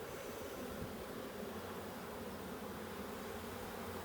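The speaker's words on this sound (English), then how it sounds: "A lot of bees." Bees buzzing inside a beehive at close range, a dense steady hum of many insects that stays even and fairly quiet throughout, with no voices.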